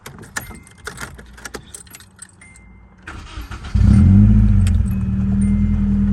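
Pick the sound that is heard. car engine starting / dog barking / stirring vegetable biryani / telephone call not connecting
car engine starting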